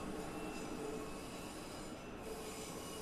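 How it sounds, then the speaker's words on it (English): A train passes in Train Sim World 6 with a steady, fairly distant wheel-and-rail rumble and a faint squeal, heard alone at a constant level. "Where can I hear the other train?"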